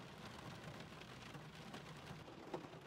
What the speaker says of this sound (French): Il pleut à Sio.